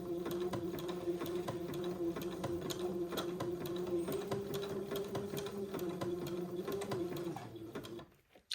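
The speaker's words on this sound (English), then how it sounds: "this will take me a little while to get this zigzagged on and get the other piece zigzagged on also" Sewing machine zigzag stitching narrow insertion lace onto fabric, a steady rapid mechanical whir with regular needle ticks running continuously for about seven seconds before stopping, heard alone and fairly quiet.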